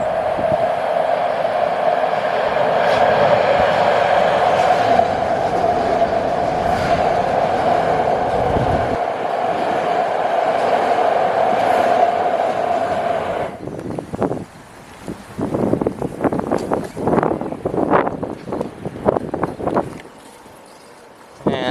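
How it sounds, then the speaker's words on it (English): A train rumbles loudly and steadily inside a tunnel, then the sound abruptly opens up into choppier, uneven bursts of noise as it comes out of the tunnel. "is where the trains come out of the tunnel"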